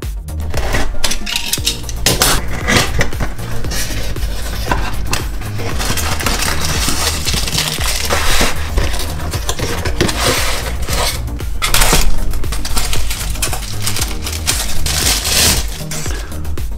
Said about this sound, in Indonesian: Sekarang mari kita unboxing dia bareng-bareng.